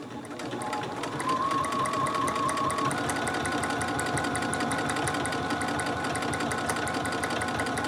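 Sewing machine stitching steadily through twelve layers of muslin, a continuous close, loud mechanical whir with rapid rhythmic needle clatter and a faint high whine early on, running without pause.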